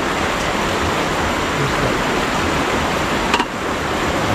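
A riverside current rushes steadily and loudly nearby, a constant broadband flow, with one brief click near the end.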